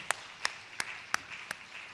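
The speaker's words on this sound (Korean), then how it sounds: "박수로 영광. 박수." Five sharp, evenly spaced claps ring out in a quiet church seminar room, a slow deliberate rhythm of single crisp hand strikes with near silence between them.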